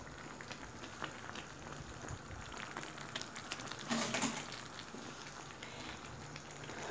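Grape leaves blanching in a pot of boiling water with oil, giving a steady low bubbling and hissing simmer throughout, with a slightly louder burst of bubbling near the middle.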